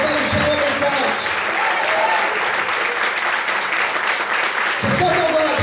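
A church congregation applauds in worship, a broad sustained clatter of hands over lingering music and voices, with a tonal sound surfacing near the start and end.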